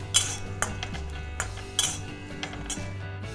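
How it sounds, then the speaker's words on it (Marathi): Peanuts roasting in a hot iron pan with the gas turned off, giving repeated light clinks and scraping rattles as the nuts are stirred against the metal, fairly close and with no talk. "आता मी गॅस बंद केला आहे आणि जी काय लोखंडाची गरमी आहे त्याच्यावरच हे दाणे भाजणार आहे."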